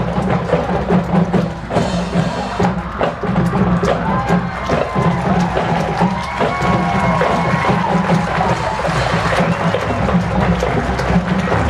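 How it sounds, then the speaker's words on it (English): A crowd at a high school football game cheers and claps for the Lincoln High School Marching Blue Band, a loud, sustained wash of shouts and applause throughout. "Round of applause to the Lincoln High School Marching Blue Band"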